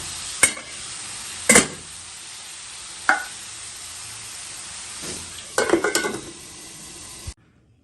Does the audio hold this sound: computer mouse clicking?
no